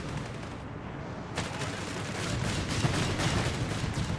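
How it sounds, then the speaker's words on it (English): Gunfire in Company of Heroes 3, a desert battle between Afrika Korps and British forces, with a dense wash of continuous shooting and rumbling artillery that grows heavier and more sustained partway through, with no talk over it. "Got the Panzer Grenadiers engaging the section, forcing it back under heavy and unrelenting fire"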